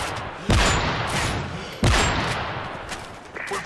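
Two sharp, loud gunshots from an MSR sniper rifle in a multiplayer shooter game, spaced over a second apart, each with a booming tail fading into background game noise.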